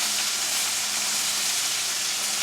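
Sirloin steaks, cooked to medium well, sizzle in a hot pan with a steady, dense frying hiss that holds level throughout, close and fairly loud with no talking.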